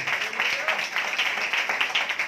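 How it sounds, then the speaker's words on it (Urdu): A church congregation at a Sunday Holy Communion service claps loudly and continuously, a thick, sustained burst of applause with voices faintly mixed in beneath it. "زوردار تالیاں"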